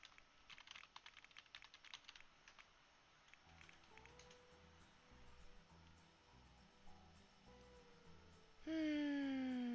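Quiet computer keyboard typing, a quick run of clicking keystrokes near the start and scattered taps after, faint and close, ending with a rising electronic tone.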